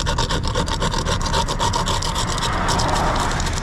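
A small plastic tool scrapes ice off a car side mirror in a rapid, rhythmic series of close, gritty rasping strokes that continue without a break.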